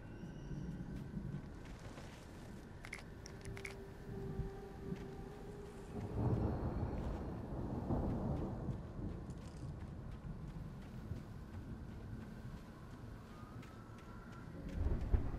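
Thunderstorm in the Alan Wake video game: a low, continuous rumble of thunder and rain swells into a heavier roll midway through, with scattered cracks and a final burst at the end.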